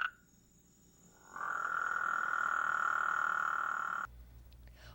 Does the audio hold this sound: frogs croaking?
yes